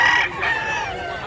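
A rooster crows at a busy chicken market in Mantalongon, Barili, Cebu, a loud drawn-out call over a steady crowd murmur with other fowl around.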